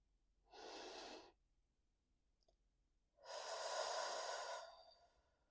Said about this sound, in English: 1 deep breath, in through the nose and out through the mouth